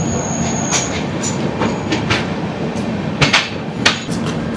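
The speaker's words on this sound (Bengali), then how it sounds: "ট্রেন আমাদের দক্ষিণেশ্বর রেলওয়ে স্টেশন থেকে ছেড়ে দিয়েছে" The 13149 Kanchan Kanya Express pulling out of Dakshineswar railway station at night, giving a loud close rolling rumble with sharp metallic clanks and knocks from the wheels over the rails, with no talk.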